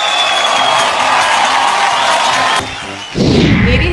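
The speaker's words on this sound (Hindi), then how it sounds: "एक बार हमारे जीके साहब के लिए जोरदार तालियां हो जाए" An award show audience applauds in a dense, steady wash of clapping and crowd noise that dips briefly before swelling again, loud and continuous.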